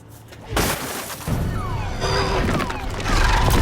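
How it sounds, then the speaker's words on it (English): Glass shatters loudly as a crowbar smashes car windows in a film scene, several heavy crashing impacts in quick succession with debris tinkling between them. "she grabs a crowbar and begins smashing car windows"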